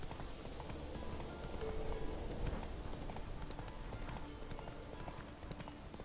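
Roach, the horse in The Witcher 3, gallops with a steady clip-clop of hooves under a constant wash of ambient game sound, a brief soft whinny-like tone rising partway through.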